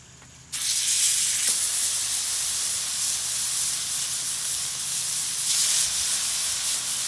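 NY strip steaks sear on a hot Blackstone griddle with a sudden loud, steady hiss that starts after a brief quiet moment and holds on, swelling slightly near the end.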